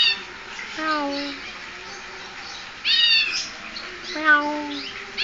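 Cat-like meows come from a bird imitating a cat: a few spaced, descending mewing calls, up close and clear over a faint background hum, with no speech.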